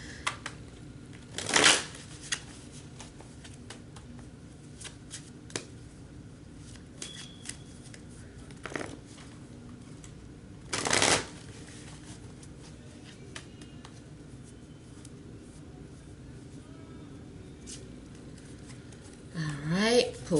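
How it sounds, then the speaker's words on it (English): Tarot cards shuffled in a few brief riffling bursts separated by quiet pauses, with faint handling sounds in between. "I can shuffle a long time."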